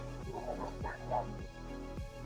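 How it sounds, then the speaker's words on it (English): A dog barks in repeated sharp yips inside a tunnel, the barks echoing off the walls at fairly close range over a low steady rumble, with about four bursts spread across the moment. "The dog suddenly retreated, barking at nothing obvious."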